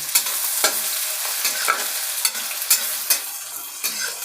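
Three medium onions and cumin fry in hot oil for a Punjabi-style turnip curry, a steady close sizzle broken by regular scraping strokes of a stirring spoon, with no voices.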